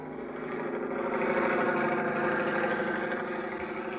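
A helicopter engine in a radio drama scene throbs in a steady, continuous drone, its layered hum and rotor beat holding at an even level throughout with no voices.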